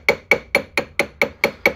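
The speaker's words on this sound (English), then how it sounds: "And I'm using a metal hammer." A metal hammer taps a ring on a jeweller's bench, eight sharp, bright metallic strikes in a steady rhythm with a ringing tone after each hit, close and clear with no talking.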